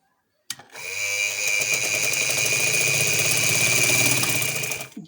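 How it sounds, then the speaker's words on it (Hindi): An electric sewing machine stitching a straight seam on a kurta, starting abruptly and running as a loud, steady whirring motor with a fast mechanical needle rhythm for about four seconds before slowing to a stop. "निशान के ऊपर हम सिलाई लगाएंगे।"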